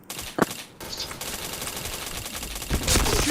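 Rapid bursts of gunfire in a shooting video game, a sharp shot near the start and then dense, loud automatic fire running through the rest with little pause.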